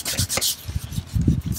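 Plastic bumper of an RC car body being scuffed before painting, a few short close rubbing strokes in an uneven rhythm.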